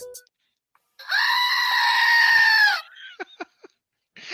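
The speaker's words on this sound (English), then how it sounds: "But yeah, the screaming goat." A screaming goat novelty toy lets out one long, loud, human-like bleating scream lasting nearly two seconds, followed by a few short sharp clicks and squeaks.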